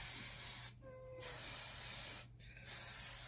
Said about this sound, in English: Trust me, it takes a lot of hairspray to hold this stuff.